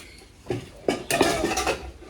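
Dishes, pots and pans clatter and clink as they are washed by hand at home, a few sharp knocks building into a busier jumble of metallic clanks, close and without talk.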